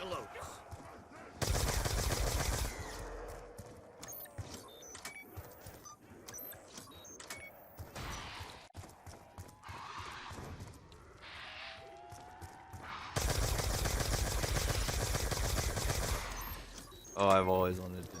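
Video game Ray Gun Mark 2 fire comes in loud, dense bursts of rapid shots, with two long sustained volleys and scattered clicks and effects between them; no voices intrude.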